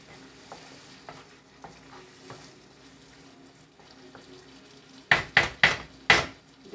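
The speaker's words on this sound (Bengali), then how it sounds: "একটু ঢাকনা দিয়ে ঢেকে একটু কতক্ষণ কষাবো চিংড়ি মাছটা।" Prawns frying in oil with taro stolons give a low background sizzle, then a close burst of four loud, rhythmic stirring scrapes of a spatula against the pan near the end.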